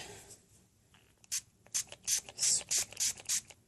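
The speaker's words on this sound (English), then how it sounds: "spray up the paint, spray up the sponge, and get a really good load" Global Liquid Black acrylic paint sprayed onto a sponge in a run of about seven short, close hissing bursts, each a quick puff of spray in an otherwise quiet room.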